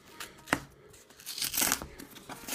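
Packaging around a trade paperback book is torn open up close, with a sharp rip followed by bursts of crinkling and tearing paper.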